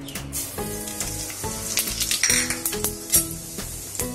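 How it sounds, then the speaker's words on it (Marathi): Cumin and mustard seeds crackle and sizzle in hot oil in a kadhai on a gas stove. The steady frying hiss is broken by sharp pops and light metallic clinks of stirring, close and clear with no talk. "इथं आपण जिरं मोहरी टाकूया।"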